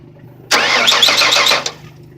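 A Ford Taurus with a 3.0 or 3.8 V6, due for idle air control valve cleaning, cranks and fires. There is a loud burst of roughly a second after a quiet lead-in, then the sound quickly fades back down.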